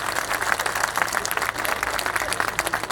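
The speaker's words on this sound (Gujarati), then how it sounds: "બે હાથ ઊંચા કરીને તાળીઓ પડે" A crowd at a Thakor community gathering in Banaskantha applauding, dense continuous clapping that holds steady and fairly loud for the whole stretch.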